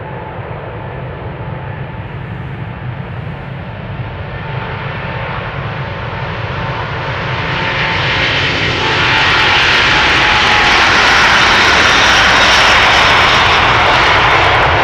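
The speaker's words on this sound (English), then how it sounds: "And this is the A330neo outbound Salt Lake City" An Airbus A330neo, Delta Airlines flight to Salt Lake City, departs in snowy weather at Amsterdam Schiphol, its jet engines roaring steadily and swelling louder as takeoff power builds, loud and continuous.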